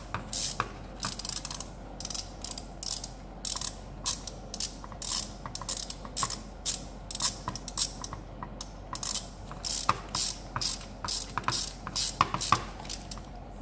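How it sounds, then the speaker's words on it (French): A ratchet wrench unscrews the dump valve on a Nissan GT-R, giving rapid bursts of close, crisp clicking in an uneven rhythm with brief pauses between turns. "comme ça peut me permettre de dévisser avec une clé"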